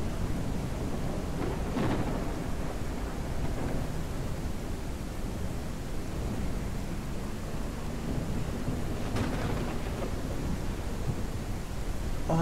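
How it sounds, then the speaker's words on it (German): Thunderstorm with heavy rain in the farming game Ranch Simulator, a constant dense rain roar with low rolling thunder rumbles and a couple of sharper cracks, loud and continuous. "ganz ein fieses Gewitter."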